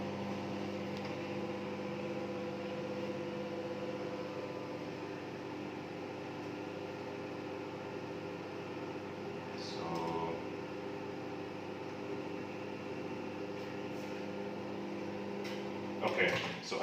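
A microwave oven running while cooking salmon, a steady low hum with a constant drone underneath, close and even throughout, with a few faint clicks and a small clatter near the end.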